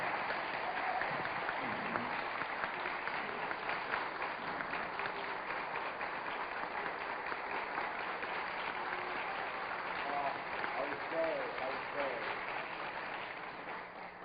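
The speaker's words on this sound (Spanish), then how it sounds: "agradezcámosle al Águila Descalza nuevamente con un aplauso" Audience applause at an event of the Fundación Apoyemos honouring Águila Descalza, a steady, dense wash of clapping that holds at an even level for about fourteen seconds, with faint voices mixed in underneath.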